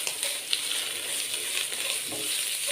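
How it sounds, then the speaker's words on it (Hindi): Chicken pieces with salt, chili flakes and black pepper sizzle and fry steadily in a pan, a dense, continuous crackle close by with no talking. "चिकन को हमने तकरीबन 3 से 4 मिनट के लिए अच्छे से फ्राई कर लिया है।"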